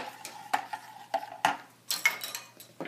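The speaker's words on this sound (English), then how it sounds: "We're going to add the jello crystals and mix this." A utensil stirs jello crystals into hot water in a bowl, giving a run of sharp clinks and scrapes against the bowl at an uneven rhythm, close and fairly clear, with no talking.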